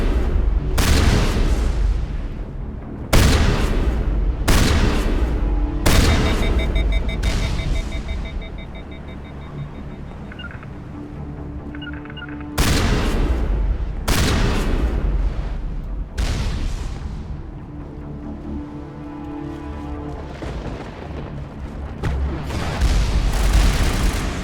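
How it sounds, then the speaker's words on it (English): A powerful shotgun in the video game Mass Effect 1 fires repeated loud, booming blasts at irregular intervals amid game effects, with someone talking between shots. "good shotgun, it's really powerful shotgun."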